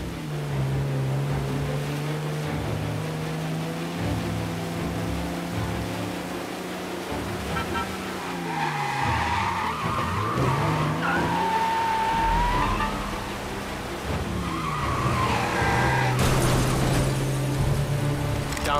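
A car roars and skids through a chase in the video game Mafia: Definitive Edition, the engine revving and shifting pitch throughout as tires screech across the middle, then the engine drones on loud and close.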